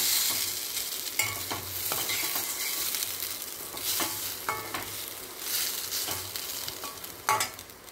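Kozukattai dough mixture with chopped diamond-cut pieces and green chilli being gently stirred in a bowl, giving soft, continuous scraping and squelching with occasional louder clinks, close and unaccompanied.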